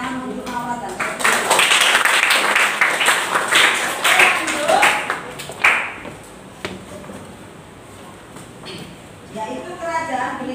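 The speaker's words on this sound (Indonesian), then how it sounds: "Tepuk tangan untuk Mawar dan Sofi." Classroom students clap for Mawar and Sofi, a loud burst of many hands that rises quickly, holds for several seconds and then tapers off, followed by quieter room noise and scattered speech.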